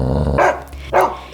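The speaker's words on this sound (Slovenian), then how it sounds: "je pes grdo zabrusil" A dog barks gruffly in a children's bedtime fairy tale, three short loud barks spaced about half a second apart over a low steady background hum.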